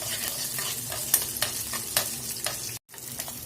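Spices with curry leaves, green chillies and sugar sizzle steadily in a hot pan while a utensil scrapes and stirs in repeated strokes, close up, briefly cutting out near the end.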